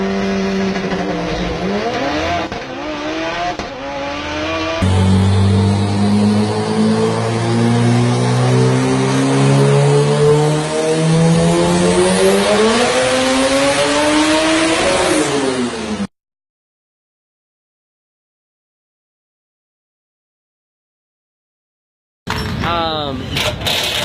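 A 1400HP Mitsubishi Evo 8 drag car launches down a quarter-mile strip, its engine revving and climbing through gears in loud rising sweeps, then cut off abruptly before a short burst of engine noise returns; a voice talks over parts of it.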